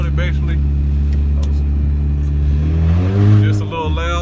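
A 2004 Acura engine revs somewhat loudly, idling and then rising in pitch and falling away, with talk over it.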